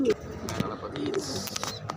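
Pigeons coo softly in a loft, low murmuring calls of young birds close by, with a few brief chirps and background chatter from people talking.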